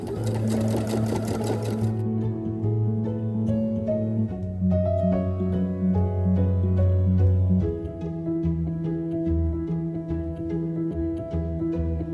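A sewing machine stitches cheesecloth onto a painted canvas journal cover, its motor humming in a steady rapid rhythm with a brief faster burst at the start, close and alone.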